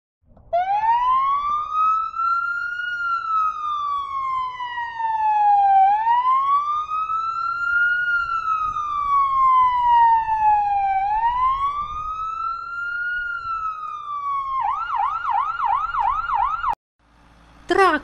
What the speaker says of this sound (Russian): Пожарная машина.